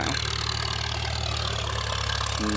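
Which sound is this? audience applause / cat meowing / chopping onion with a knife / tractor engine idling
tractor engine idling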